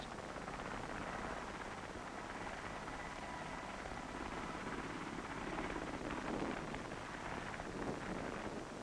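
A Bristol Belvedere Type 192 twin-rotor, gas-turbine helicopter drones at a distance, a faint, steady rumble with a light wind-like wash that swells slightly toward the end.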